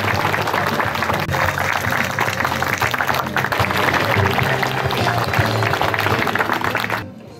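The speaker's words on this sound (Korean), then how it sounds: "모두 일어나서 박수로" A standing crowd claps steadily at a 100th birthday celebration for a family elder, a loud sustained wash of applause that continues evenly and then stops abruptly near the end.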